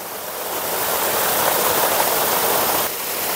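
Dhangikusum waterfall in a hilly forest, swollen during the monsoon with light rain falling, roars as a loud, unbroken wash of rushing water, close and steady throughout, with no voices.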